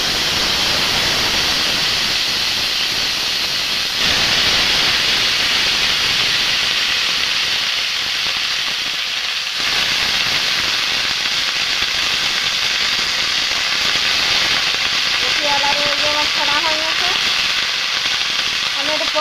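Cabbage and potatoes frying in hot oil in a pan, a loud, continuous sizzling hiss that holds steady for the whole stretch, with a brief voice-like tone near the end.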